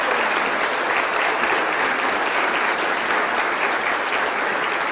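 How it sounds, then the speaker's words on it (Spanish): An audience at a health conference on vitamin D applauds, dense and sustained clapping from many hands, loud and even for the whole stretch with no talking over it. "Y un aplauso para..."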